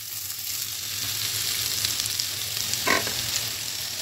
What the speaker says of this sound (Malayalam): സവാള നല്ലപോലെ വഴറ്റിയെടുക്കണം.